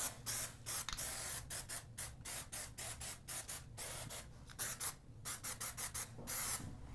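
Primer goes onto an interior wall in a very light coat, heard as a steady series of short hissing, rubbing strokes in a quick, even rhythm, close and moderately quiet with no talking.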